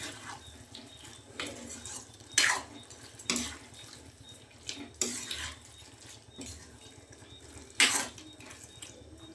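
Chicken pieces with salt stirred in a pan while making green chilli chicken chops, giving soft scraping and occasional sharp utensil clinks against the pan, moderately close, no talking.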